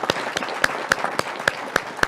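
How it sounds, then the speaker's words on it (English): Scattered applause from a panel discussion audience, a thin run of separate claps repeating in a loose rhythm, moderately close with little else around it. "That was too lukewarm of an applause to celebrate our 7 allies in action that joined us today."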